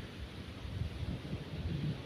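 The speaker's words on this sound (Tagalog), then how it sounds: "Hangin lang." Steady wind at a beach rumbles and buffets throughout, a low continuous roar with gusty swells, close to the microphone and with no voices.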